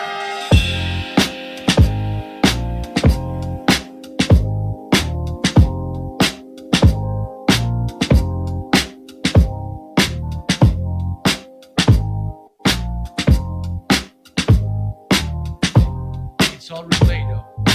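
A hip-hop beat, built from replayed instrumentation, loops punchy drum hits in a steady groove under layered sustained chords, loud and upfront with no voices.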